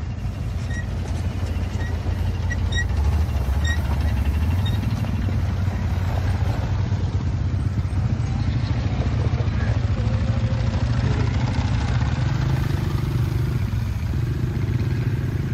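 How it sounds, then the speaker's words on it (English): Quad bike engines running on a forest tourist ride in a South African reserve, a continuous low rumbling drone with steady clatter, close and loud throughout, slightly rising and shifting in pitch, no speech heard. "These are quad bikes. Bikes having four wheels."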